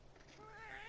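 A cat in the video game South Park 2 meows faintly once, a short rising cry beneath quiet background sound.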